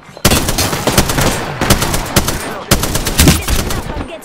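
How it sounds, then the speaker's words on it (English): Video game gunfire in dense, sustained automatic bursts, loud and close, in three volleys separated by brief gaps. "Enough, I'm getting shot at."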